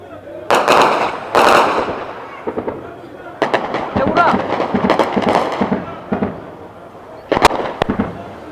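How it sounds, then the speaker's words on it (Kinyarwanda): Heavy guns firing shells near a populated area during fighting around Goma, heard as several loud booming blasts and bursts spaced irregularly, some near and sharp, with voices around them. "imbunda nini zirimo zirarasa zikohereza ibisasu"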